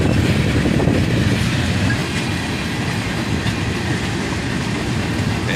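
Freight train with rusty old Soo Line cars passing on a bridge: a loud, steady roar of rolling wheels and rattling cars, close by and continuous, with faint rhythmic clacking throughout.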